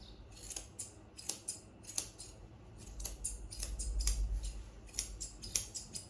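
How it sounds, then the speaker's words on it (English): Scissors trim the hair on a dog's head in quick sharp snips, several close crisp cuts in an uneven rhythm over faint rustling. "so I lift up the top and I trim the bottom"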